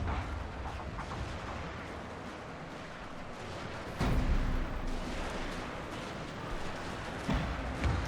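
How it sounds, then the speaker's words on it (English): A Shogun 2 Total War battle rumbles with continuous distant gunfire and artillery, a dense crackling wash of shots punctuated by two heavier booming impacts. "Some non-stop firing"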